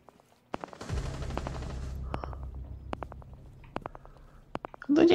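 Gunshots ring out in Rainbow Six Siege, sharp isolated cracks spaced irregularly over a low rumbling in-game ambience, with one louder burst at the end.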